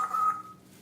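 A cockatoo mimics an old cordless phone, giving a short electronic two-tone beep that is moderately loud and fades quickly, with no talk.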